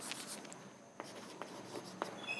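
Marker or chalk writing during a physics lecture on electric potential, heard as soft scratchy strokes with a few sharper taps, faint and close in a quiet room.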